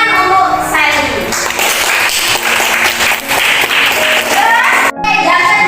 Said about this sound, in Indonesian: Tepuk tangan untuk Sally.